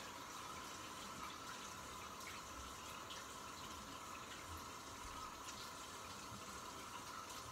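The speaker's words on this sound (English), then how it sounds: "just rinsing cold water" Cold tap water runs steadily while a razor is rinsed, a constant soft rushing that holds for several seconds, faint and without talk.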